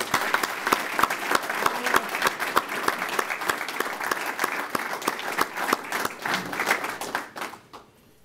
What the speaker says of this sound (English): Please give a warm round of applause to our newly inducted NCOs.